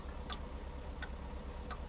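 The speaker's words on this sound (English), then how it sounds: "I put on the turn signal." Three faint, slow, evenly spaced clicks of a truck turn signal in American Truck Simulator or Euro Truck Simulator 2, over a steady low engine hum.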